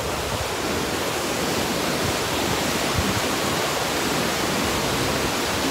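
Water rushes through a dam in a steady, loud, dense roar that stays even from start to finish, with no voices.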